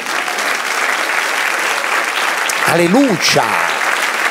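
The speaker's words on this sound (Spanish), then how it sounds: "Denle un aplauso al Señor." A church congregation applauds during a worship service: steady, dense clapping fills the whole span, and a voice calls out over it near the end.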